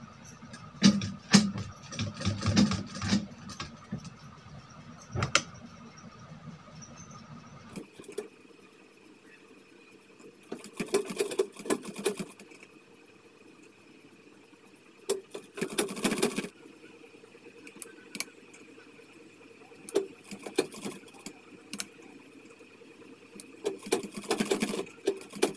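Sewing machine stitches lace onto a blouse neckline in repeated short bursts separated by pauses, quiet and close, with no talking.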